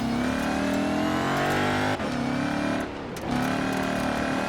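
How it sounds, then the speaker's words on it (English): A supercharged Bowler EXR S off-roader engine revs hard and holds a high, steady supercharger whine, with a brief dip as it shifts before climbing again; loud and close. "Now you can really hear that supercharger,"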